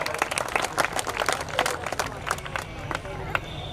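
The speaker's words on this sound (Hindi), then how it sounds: "जोरदार ताली बजाकर के जगेश्वर जी का स्वागत करिए" A crowd at a political rally in Gaura Bazar, Varanasi claps in a burst of scattered, fairly distant applause that thins out over a few seconds, with a voice over a loudspeaker and background chatter mixed in.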